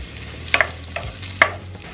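Diced onion and garlic fry gently in olive oil in a pan over medium heat, a soft low sizzle under a few sharp clicks and scrapes of a utensil stirring, with no voices.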